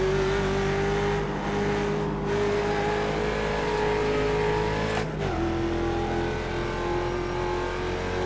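Mustang race car engines roar steadily at close range in the iRacing sim at Spa, a sustained multi-car drone with a brief dip and shift in pitch around a gear change midway.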